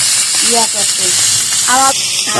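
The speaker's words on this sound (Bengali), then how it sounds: "এই যে কদুর শাক রান্না হচ্ছে" Pumpkin greens frying in a pan give a steady loud sizzling hiss, with voices speaking over the frying throughout.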